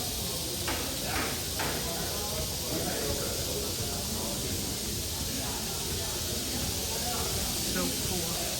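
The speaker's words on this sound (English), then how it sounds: "And you hear them all rattle." A big crowd of rattlesnakes at a rattlesnake roundup in Riesel, Texas, rattling all together in a dense, steady buzzing hiss that never lets up, with people talking nearby.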